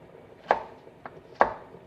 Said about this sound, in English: We cut the slices lengthwise